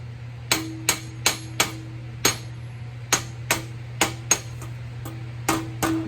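Hammer blows straighten the end flange of a vintage International Harvester metal tool box. About fifteen sharp, ringing metallic strikes come in uneven bursts, close and fairly loud, over a steady low hum, with no talking.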